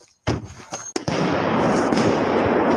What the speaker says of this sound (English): Wait for the bang. Grenade.